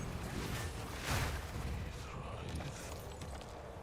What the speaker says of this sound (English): we gotta turn up the sound so you can hear those explosions.